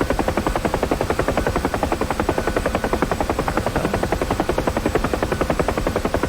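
A UH-1H Huey helicopter in the DCS World flight simulator gives a loud, steady rhythmic thump of rotor blades that continues throughout with no speech.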